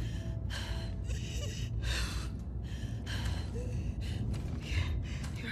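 Strained, labored breathing in The Last of Us Part 2, several rough gasping breaths in a loose rhythm over a low ambient hum, close and subdued.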